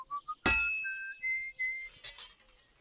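A sword is worked at a forge anvil in Kingdom Come Deliverance 2: a sharp metallic strike rings out, followed by a sustained, rising, whistling tone that wavers in pitch, with lighter clinks later.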